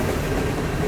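A freight train rolls past close by, a loud continuous rumble of heavy wheels and rail cars that stays strong from start to finish without any talk over it.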